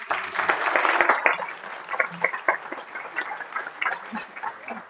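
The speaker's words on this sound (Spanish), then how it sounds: "Les pido nuevamente un fuerte aplauso para ellos." An audience at a neurocritical patient session applauds in uneven bursts, with scattered claps and a few voices mixed in, fading and thinning toward the end.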